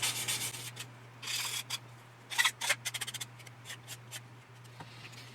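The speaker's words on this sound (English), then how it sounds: "we're gonna sand that down to get that fixed" Quiet, close sanding strokes in short bursts on a plastic part of a 1/32 Italeri Panavia Tornado model kit, with light rubbing between, no talk.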